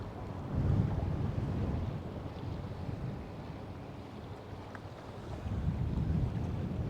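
Steady wind buffets the microphone while fishing from a boat on open water, a continuous low rushing roar that swells and eases with the gusts, with no voices.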